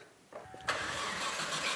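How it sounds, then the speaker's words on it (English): An old, rusty motorbike engine catches after a brief cranking sputter, then settles into a steady, rough running roar that holds loudly to the end. "The engine works!"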